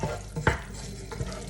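Chili garlic oil simmering on low heat in a pan is stirred, giving a couple of scraping strokes over a steady bubbling sizzle, close and fairly loud, with no talking.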